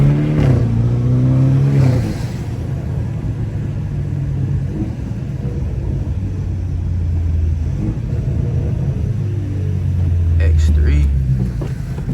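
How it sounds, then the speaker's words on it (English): BMW F30 with an M340i engine swap revving up on a rainy night drive, with a loud rising and falling engine drone and turbo whine throughout, and a voice speaking over it. "I don't know if y'all can be able to hear that turbo like I can."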